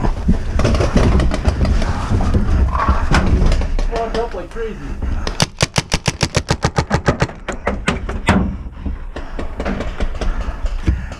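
Gunfire in a capture the flag video game, with rapid automatic bursts of shots rattling close by, the sharpest run coming in a fast regular string partway through, while players talk over it throughout.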